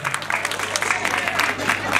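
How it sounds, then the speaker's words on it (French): Guests at an official ceremony clap together in a brief burst of applause, steady and fairly loud throughout, with a low hum running beneath it. "Applaudissez Madame Simedo encore une fois."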